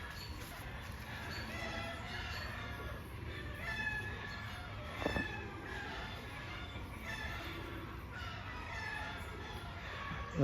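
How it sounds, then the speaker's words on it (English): A neighbor's chicken clucks and crows off in the distance, faint and intermittent under steady outdoor background noise. "apparently my neighbor's chicken started to go on a strike over there"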